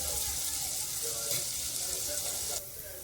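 Chopped onion fries in hot oil, giving a steady, close, hissing sizzle that runs unbroken and drops slightly in intensity near the end.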